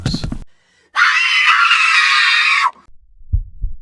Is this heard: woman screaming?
yes